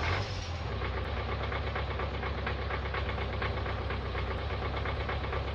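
A ZIL 5301 truck engine in Farming Simulator 19 runs steadily from inside the cab, a low, even diesel drone with a rapid knocking pulse and no talk over it.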